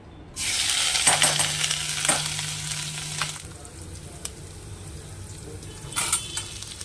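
Ginger, garlic and chillies hit hot oil in a pan for chilli paneer, bursting into a loud, steady sizzle that slowly settles into a softer crackle, with brief clinks of stirring.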